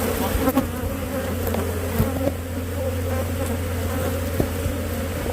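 A dense, steady buzzing of many bees swarming around a hive close by, continuous throughout with a low constant hum underneath.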